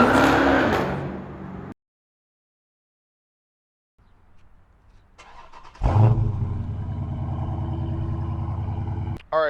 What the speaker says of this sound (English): I hope y'all enjoyed the cold start